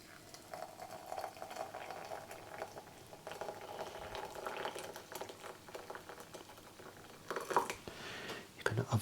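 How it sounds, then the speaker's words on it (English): Boiling water pours and gurgles into a teapot holding a tea bag at low volume, a soft bubbling splash under a quiet voice, ending with a few clinks. "Some boiling water"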